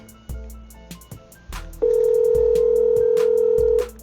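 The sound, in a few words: phone ringing on a VoIP call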